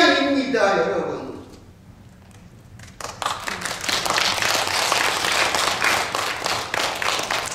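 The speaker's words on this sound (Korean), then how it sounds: "박수해 주셔서 고맙습니다." Audience at a Catholic priest's lecture on faith breaking into applause, a dense wash of clapping after a brief lull, loud and sustained in a hall, following a voice speaking.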